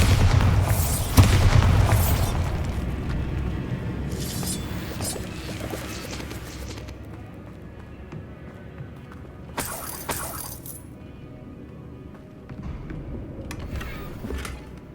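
The Bombarda blasting spell in Hogwarts Legacy, a heavy booming explosion with shattering debris at the start that fades into rumble, followed by further bursts of crashing rubble later.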